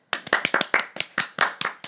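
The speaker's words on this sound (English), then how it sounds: "Clap it up." An audience claps in quick, uneven bursts, close and lively, for just under two seconds after a brief silence.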